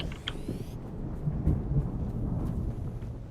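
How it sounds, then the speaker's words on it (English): A large approaching sandstorm in the video game Dune Awakening: a steady low roar and rumble of storm wind that holds throughout, with brief higher rushes at the start and no voices. "A large sandstorm is approaching."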